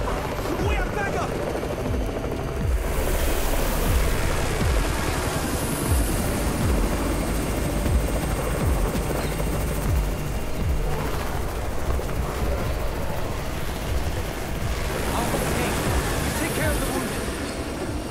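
Helicopter arriving in the Undawn zombie survival game, a dense, continuous rotor roar with a rumbling, rattling texture that stays loud throughout, blended with the game's ambient noise.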